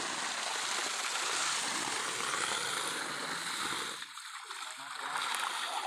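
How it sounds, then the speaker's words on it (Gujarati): Water pours steadily into a freshly cleaned bird drinking trough, a continuous splashing rush that dips briefly and then resumes. "હવે એને પાણીથી આખી ભરી દેવું આપણે।"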